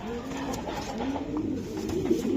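Racing pigeons from a BRPL club coo continuously in low, soft, rolling calls, close by and steady, with no voices over them.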